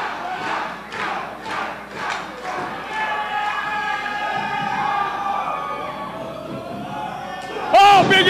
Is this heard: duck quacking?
no